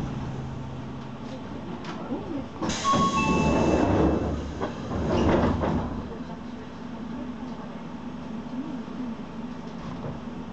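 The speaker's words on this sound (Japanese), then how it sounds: "電車はこの駅で2回目のスイッチバックを行います。" A Hakone Tozan Railway train rolls through a switchback near Ohiradai station, with a steady low rumble that swells midway into loud wheel noise and thin metallic squeals before settling back to a constant hum.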